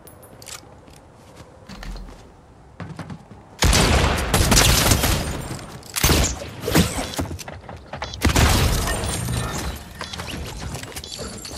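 Shotgun blasts from a Fortnite solo match ring out in sharp, loud bursts, several shots in quick succession over a few seconds amid in-game clatter and movement.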